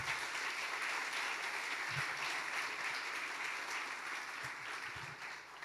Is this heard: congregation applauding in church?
yes